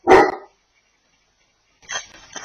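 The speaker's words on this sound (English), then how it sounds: "her dog suddenly begins barking toward an unseen area of the room" A single sharp dog bark, then a pause and a few softer, rougher sounds, close by.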